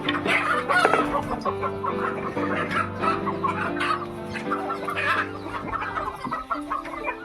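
Chickens cluck in a village coop fitted with a ladder up to bamboo perches, many hens overlapping in a steady, busy chorus close to the listener.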